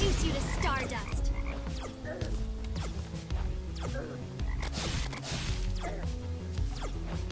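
A frog croaks repeatedly in modded Terraria, its throaty calls layered over busy game effects of hits, crashes and clicks, loud and continuous throughout with no talk.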